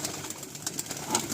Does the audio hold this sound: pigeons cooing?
yes